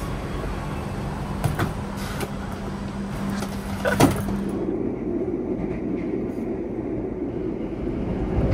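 Steady rumbling train ride in Java, Indonesia, with a low engine hum, a few clanks and thumps, then the tone shifts to a smoother, quieter roll.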